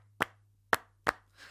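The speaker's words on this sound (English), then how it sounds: "I added some claps to it and I wanted to recreate those flamenco claps" Soft flamenco-style hand claps sound as three sharp, close, separate claps spaced unevenly, with a fainter fourth clap at the end over a low steady hum.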